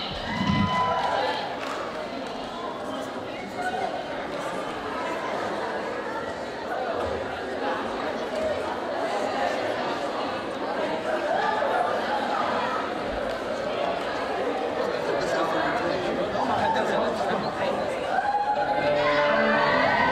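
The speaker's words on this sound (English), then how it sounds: "As you can hear, the crowd is going wild" A big crowd roars and cheers steadily throughout at the 2016 Miss OSU pageant as the new winner is announced. The noise is a dense, continuous din of many voices, loud and close, with no single voice standing out.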